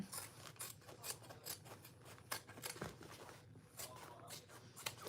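Scissors snip steadily through fabric as a lining seam allowance on a handbag is trimmed, a quick run of close, crisp cuts at a quiet level with no talking.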